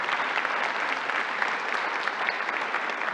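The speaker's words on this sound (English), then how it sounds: "Let's give them a round of applause." Church congregation applauding during a Sunday morning service, a steady, moderately distant wash of many hands clapping that holds evenly throughout.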